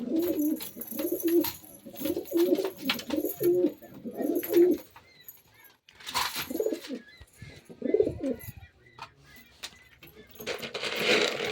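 Domestic pigeons in a small home flock coo in repeated low, throaty rolls close to the microphone, with pauses and some light fluttering and clinking sounds between the calls.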